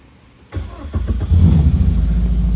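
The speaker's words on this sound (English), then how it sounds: "I'll fire it up so you can hear it." Subaru 2.5L fuel-injected engine in a 366 Speedster replica cranks briefly after a click, catches and settles into a loud, close, rumbling idle.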